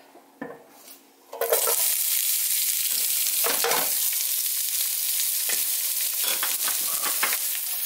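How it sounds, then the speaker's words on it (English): Onion and pepper hit hot olive oil in a frying pan and break into a loud, steady sizzle after a few clattering stirs, with scraping and stirring sounds over the continuous frying. "So we're starting off by putting a little olive oil in the frying pan."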